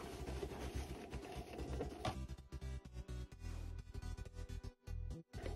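A sewing machine stitches fabric for a hanging basket, running in quick rhythmic bursts with short pauses between runs, close and fairly quiet, no voices.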